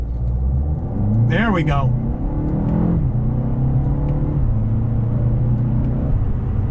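A 2025 Mercedes-Benz CLA 250 with turbo engine and paddle-shifted dual-clutch gearbox accelerates hard from inside the cabin, a loud rising engine note with quick shifts and a steady drone after, while someone speaks briefly.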